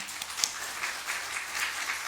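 A church congregation applauding during a Sunday service, steady and fairly faint, a diffuse wash of many hands clapping together without a break.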